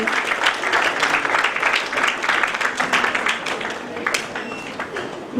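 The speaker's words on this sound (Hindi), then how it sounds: "Please give him a huge round of applause." At a book launch ceremony an indoor audience applauds a guest receiving a memento, with dense steady clapping that slowly fades toward the close.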